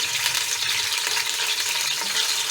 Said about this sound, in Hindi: और इस गोश्त में इसकी हल्की सी हम भुनाई करेंगे